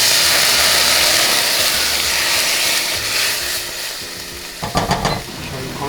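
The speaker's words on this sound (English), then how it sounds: "And then we will deglaze with a little bit of osake and mirin." A pan being deglazed with osake and mirin alongside tomatoes, garlic and dashi hisses loudly in a continuous sizzle, easing slightly before a few sharp stirring bursts near the end, with no talk.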